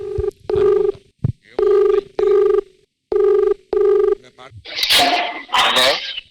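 A phone ringing during a call on a comedy game-show stage, heard as a series of repeated ringback tones in even bursts, then followed by a loud burst of noisy sound like a gasp or laughter.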